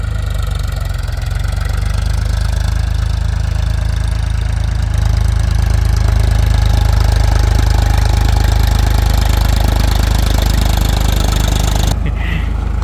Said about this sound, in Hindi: ये बिना ड्राइवर के ट्रैक्टर भी अपने आप चल पड़ता है।